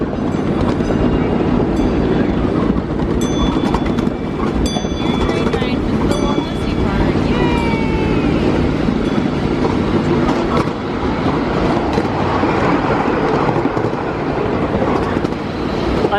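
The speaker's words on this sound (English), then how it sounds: "What a fun train ride." A miniature live steam train rumbles steadily along its track with a constant rolling clatter and brief whistle-like tones and squeals. Riders talk now and then over the continuous ride noise.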